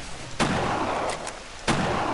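Gunshots in the German hunting game Treibjagd 3D, two sharp broadband cracks a little over a second apart, each followed by a sustained noisy tail, with no talk.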